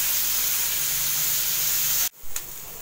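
Onions sautéing in a pan for a veg paneer wrap, a continuous loud frying hiss that stops suddenly near the end, followed by a brief faint click.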